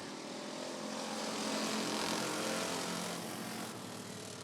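Race cars roar as they accelerate away at the green flag on the oval at Rockford Speedway, a loud, sustained broadband engine drone that swells in the middle and holds steady with no talk over it.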